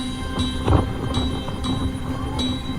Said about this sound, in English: Here comes the storm, dude.